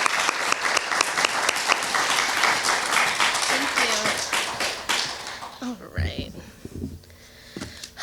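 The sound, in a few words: audience applause welcoming speaker Juliet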